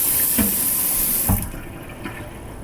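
Hot water runs from a kitchen tap over a cutting board in the sink, a loud steady rush broken by a couple of knocks before it thins out and quiets.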